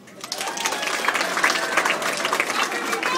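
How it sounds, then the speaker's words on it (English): Audience at a live concert in Seattle claps steadily, a dense, continuous wash of many hands filling the whole stretch without letting up. "clap if you're married."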